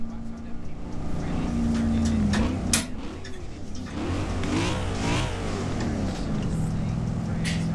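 Several cars roll together in a slow convoy through traffic in Forza Horizon 4, engines droning and revving in overlapping waves under someone talking throughout.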